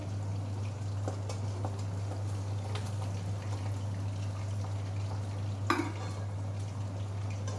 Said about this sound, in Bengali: পাবদা মাছটা আগে ভেজে নিচ্ছি, এরপর পমফ্রেট মাছটাকে ভাজবো